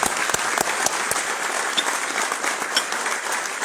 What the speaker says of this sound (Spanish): si quieren aplaudimos a estos héroes